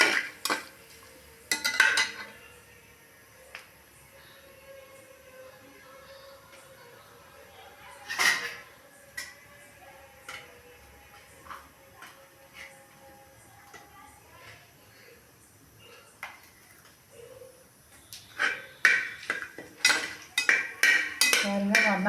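Mushrooms and spices frying in a pan while a spoon stirs them: scattered metallic scrapes and clinks against the pan, sparse in the middle and growing busier toward the end, with soft frying hiss beneath.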